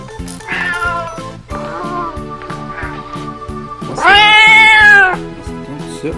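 A white-and-purple toy cat gives several loud, close electronic meows, the last one long and drawn out, over a steady repetitive electronic beat.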